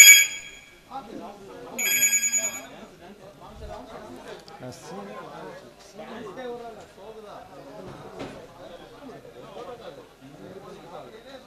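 A telephone bell rings in two short bursts at the start, then people keep talking and chattering.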